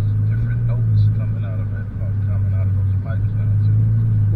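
Car engine after a throttle body upgrade, heard from inside the cabin as a steady, mellow low hum that rises slightly under light revving, with people talking over it.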